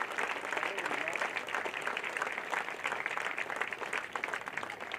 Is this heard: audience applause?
yes